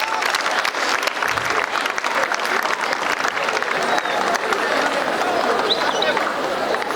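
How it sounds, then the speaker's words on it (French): Loud, dense applause from an audience at a school peace ambassadors consecration ceremony, continuous clapping with some crowd murmur running throughout. "Si on peut applaudir pour nos très chers ambassadeurs."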